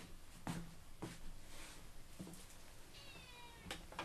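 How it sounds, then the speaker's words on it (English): A cat meows repeatedly indoors, several short close calls at irregular intervals, with one drawn-out, higher cry near the end. "Shut up, cat."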